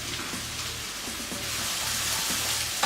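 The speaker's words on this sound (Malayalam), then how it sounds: "അതിലേക്ക് ഞാൻ 5 സവോള ചെറുതായിട്ട് അരിഞ്ഞ് ഒരു സ്പൂൺ ഉപ്പും കൂടി ഇട്ട് വഴറ്റി വെക്കാം" Five finely chopped onions with a spoon of salt sauté in hot oil in a pan, a continuous close frying sizzle with faint soft stirring, no voices.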